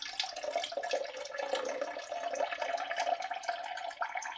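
Tap water running steadily while a 33-gallon community fish tank is cleaned, a continuous close splashing hiss with no pauses and no talk.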